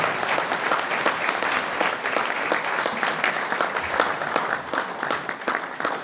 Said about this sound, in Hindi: बाकी जोरदार तालियां दोनों के लिए,